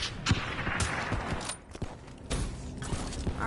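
Gunfire in the video game Black Ops 3, with a series of short sharp shots and bursts scattered irregularly over mechanical creaks and clatter, moderately loud, with no voices.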